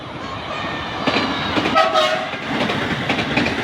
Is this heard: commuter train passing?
yes